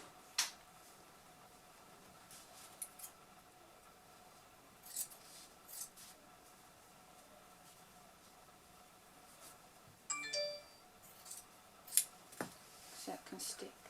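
Scissors cut through millinery material while a percher hat fascinator is being made, giving a few faint, scattered snips and rustles spread across a quiet room.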